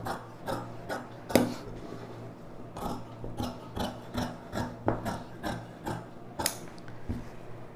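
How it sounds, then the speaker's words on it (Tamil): Scissors cut through fabric for the sleeve of a lined chudidhar, giving a series of close, rasping snips at an uneven rhythm with no talking. "இந்த அளவு அப்படியே இந்த ஸ்லீவை கட் பண்ணிக்கலாம்"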